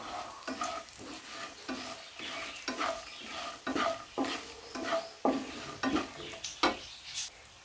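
Poha with salt and red chili flakes fries in a pan while being stirred, producing a steady sizzle broken by regular scraping strokes of a utensil against the pan, close and clear with no talk.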